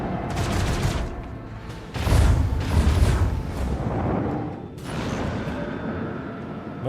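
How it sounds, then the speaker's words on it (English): Torpedoes launch from a ship during a space battle in Warhammer 40,000: Rogue Trader, heard as heavy mechanical bursts and rumbling blasts in several loud surges, with creaking metal and rattling between them. "More torpedoes coming out."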